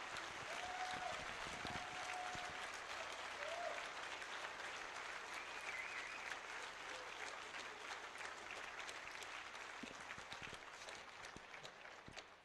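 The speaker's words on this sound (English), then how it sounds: "let's give a round of applause to the speakers" A large DEF CON award ceremony crowd gives the speakers a sustained round of applause, a wide dense wash of clapping that slowly tapers toward the end.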